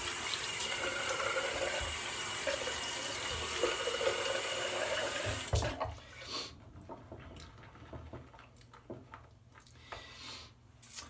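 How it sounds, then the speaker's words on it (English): A tap runs steadily into a sink for several seconds while a man rinses during a shave, then cuts off, leaving scattered drips and small splashes close by. "I'll rinse off and lather up for two."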